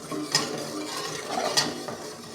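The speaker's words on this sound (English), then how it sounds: "I'm going to sauté the onions in a little butter" Diced onion sautéing in butter in a pan, with a soft continuous sizzle, occasional stirring clinks, and two sharper utensil taps, close and moderately loud, with no voices.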